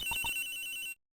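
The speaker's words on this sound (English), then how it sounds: "Whoops, excuse me. Phone call." A phone ringtone from the Ace Attorney Investigations 2 video game chimes in a short bright electronic burst of repeating tones, loud and alone, then cuts to silence.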